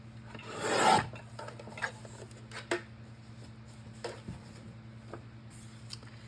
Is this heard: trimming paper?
yes